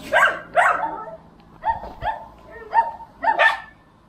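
Dogs caught in Portugal bark in a short series of sharp, mid-distance barks and yips, several spaced calls over about four seconds with no talk.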